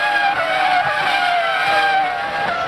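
Loud, continuous high-pitched whine of Formula One race cars at speed on track, a screaming engine tone sustained throughout with slight pitch drift, no talk.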